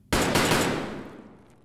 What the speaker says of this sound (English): We take a few shots and relocate again